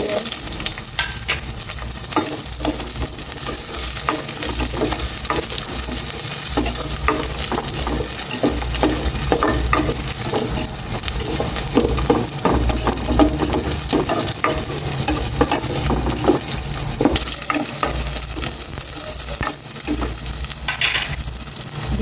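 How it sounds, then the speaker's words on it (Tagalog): Garlic, onion and chicken sautéing in a pan, with a steady loud sizzle and frequent clinks and scrapes of a utensil stirring throughout, no talking. "Gisa ko na itong chicken."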